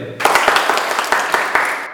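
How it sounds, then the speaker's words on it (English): An audience breaks into applause, a dense wash of many hands with a few sharper claps standing out, loud and steady for under two seconds. "A big round of applause to Mr. Udayan."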